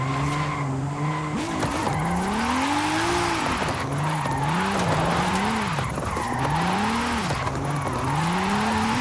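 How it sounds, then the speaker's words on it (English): A car in Forza Horizon 5, driven with a steering wheel, e-brakes into a long skid: loud tire squeal and a wavering engine tone sweep up and down continuously, filling the whole stretch. "I'm gonna e-brake a little bit because it's getting too fast."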